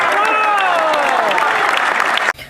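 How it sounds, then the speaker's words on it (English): Loud applause from a crowd, dense clapping with some cheering mixed in, ending abruptly near the close. "Come on, give him a round of applause."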